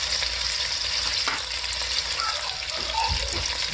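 Potatoes frying in a pan with green chillies and tomatoes added, giving a steady close sizzle with a few stirring clatters and no speech over it.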